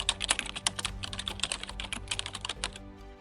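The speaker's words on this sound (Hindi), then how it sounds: "क्रोम को खोल लेंगे और यहाँ पे टाइप करेंगे SIP कैलकुलेटर" A computer keyboard typing a search into Chrome: a fast, dense run of crisp keystrokes that stops near the end, close and clear with no voice over it.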